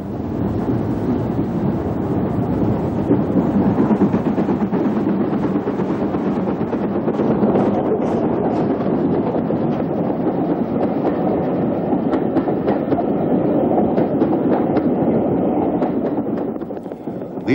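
A Southern Railway Class N mogul steam locomotive labours up a steep bank out of Alton, its heavy, steady exhaust roar loud and continuous throughout, with rumbling wheels and no voices.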